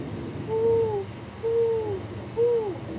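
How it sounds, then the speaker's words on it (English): Three evenly spaced hoots from an owl ring out in a slow rhythm, clear over a faint steady background hum. "He heard Owl calling from the forest."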